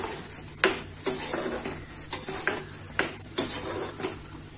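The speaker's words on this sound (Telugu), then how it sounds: "ఇలా మసాలా యాడ్ చేసుకున్నాక మనకి ఆయిల్ పైకి వచ్చే వరకు బాగా ఫ్రై" Masala fries in oil in a pan for a paneer curry, a soft steady sizzle broken by repeated scraping stirs and light clinks of a spoon against the pan.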